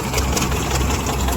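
A farm tractor's engine idles loud and close in a steady, low, rumbling chug with no other sounds over it.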